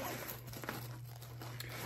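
A foil space blanket crinkling and rustling as it is handled while a firewood cutter's medical kit is unpacked, a continuous close crackle with no voices.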